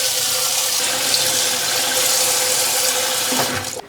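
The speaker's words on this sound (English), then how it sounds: "I'm going to cover it with water." Tap water pours steadily and loudly into a pot holding eggs for boiling, a close, continuous rushing stream that shifts in tone near the end as the tap is shut off.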